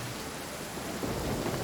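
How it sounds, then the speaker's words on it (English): Rain and thunder in the Genshin Impact video game, a dense steady hiss of falling rain with a low rumble swelling underneath, continuous and fairly loud with no talk. "it looks like it decided to rain"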